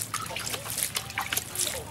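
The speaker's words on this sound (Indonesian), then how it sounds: "kita siram seperti ini" Probiotic liquid is poured and splashed over fermented livestock feed for goats and cattle, a close, uneven trickling and spattering with wet sloshes, while a voice speaks over it.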